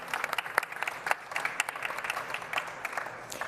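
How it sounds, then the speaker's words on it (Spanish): A conference audience at the BNEW 2022 Digital Industry event bursts into steady, dense applause, many hands clapping at once in a bright, continuous patter with no voices over it. "Un aplauso, sí."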